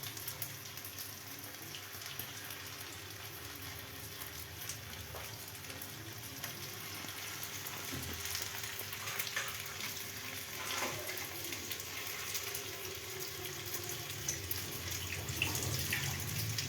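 Chhana koftas frying in a pan over a lowered flame make a steady, faint, even hiss of oil that thickens slightly toward the end, with no voices.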